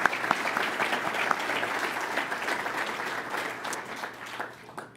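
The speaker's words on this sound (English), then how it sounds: "Please give them all a round of applause for their service." Audience at a State of the City event applauds former officials, a lively round of many hands clapping that holds steady, then thins and tapers off near the end.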